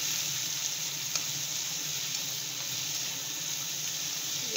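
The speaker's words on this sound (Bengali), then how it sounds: "দেখুন সব পেঁয়াজ দিয়ে দিলাম" Sliced onions frying in a pan of oil, a steady low sizzle with faint stirring that runs evenly throughout, near and moderate in volume, with no talk.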